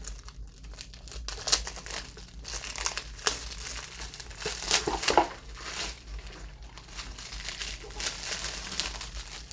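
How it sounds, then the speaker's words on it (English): Crinkly plastic wrap is peeled and torn off a Xerjoff perfume box, close up, with continuous rustling and crackling throughout. "Really exciting watching me take wrapping off of stuff, I'm sure."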